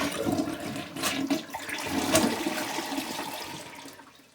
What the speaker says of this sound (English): Again, big flush.